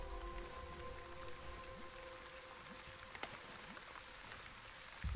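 Light rain from small rain clouds patters in the Onbu game, a soft, quiet wash of drops with a few louder splashes over a faint sustained tone, without talking.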